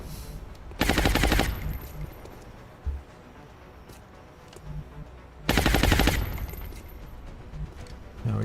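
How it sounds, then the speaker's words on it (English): Two loud bursts of suppressing automatic gunfire in an XCOM-style turn-based alien-combat video game, each lasting under a second and separated by a quieter stretch of ambient game sound. "I think what I'll do is just suppress the dude right here, because we got fresh ammo."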